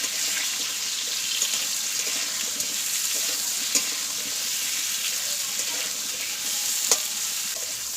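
Pointed gourd (patol) pieces sizzle steadily in a pan as salt is added and a spatula stirs them, a loud continuous frying hiss with occasional scraping clicks and no talk.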